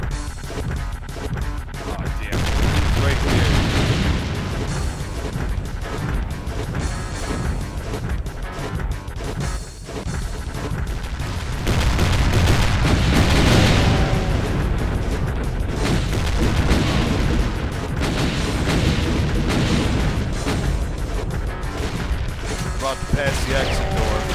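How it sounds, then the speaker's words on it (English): Loud, continuous combat noise from Brutal Doom version 20 with repeated booming explosions and crashing impacts layered over heavy gunfire, filling the whole stretch without pause. "Yeah, this was a loud one. Lots of explosions."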